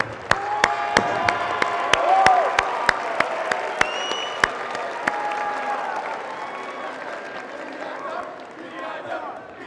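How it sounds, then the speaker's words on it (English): Audience applause at a SkillsUSA event address, a dense crowd clapping loudly and steadily for about ten seconds, with sharp individual claps standing out early and a few whoops and shouts mixed in before it gently thins. "So I owe you an applause."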